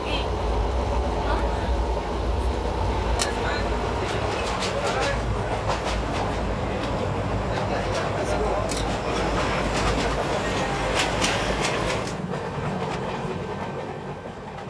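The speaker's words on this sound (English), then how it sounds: "the train heads for Patna" Train rolling across northern India toward Patna, a steady loud rumble with rail clatter and scattered metallic clicks running the whole way, easing slightly at the end; faint voices may sit under the noise.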